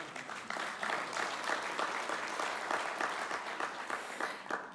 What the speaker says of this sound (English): despite that lovely round of applause